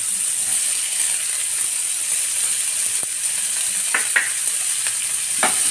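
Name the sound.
tomatoes sautéing in a pan for fish masala gravy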